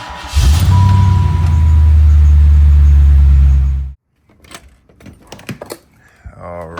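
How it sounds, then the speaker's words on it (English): A car engine cold-starts with a loud, steady low rumble that runs several seconds before cutting off abruptly, followed by scattered clicks and handling noises. "So cold start, let it prime, fire up."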